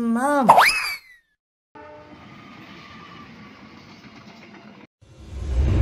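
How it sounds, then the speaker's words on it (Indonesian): An Indonesian CC206 diesel locomotive sounds a loud, bending horn blast up close, then rumbles past with a steady hum of engine and wheels before a heavier roar at the end. "lihat teman-teman, ini Indonesian Train Lokomotif CC206"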